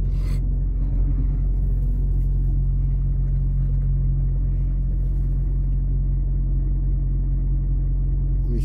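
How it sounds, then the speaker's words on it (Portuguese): Steady low rumble of road traffic on the BR-381 highway near Belo Horizonte, Brazil, a truck rolling past with continuous heavy droning and tyre noise, loud and close throughout, no voices. "Vamos esperar aquele carro passar. Carro não, caminhão, né?"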